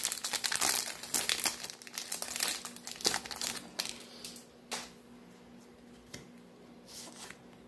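Crinkly foil wrapper of a Pokemon card booster pack being torn and crumpled up close, a burst of rustling that fades to a few scattered crackles.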